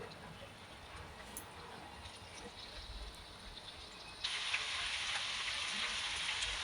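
Onion sautéing in oil with a pinch of salt, cooking toward golden brown: a soft, close crackling sizzle that suddenly grows louder and brighter partway through, as if the pan is stirred or the heat rises.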